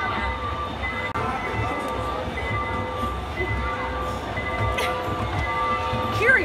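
A moving train gives a steady low rumble and rattle through the carriage, with a constant hum throughout and brief faint voices over the running noise.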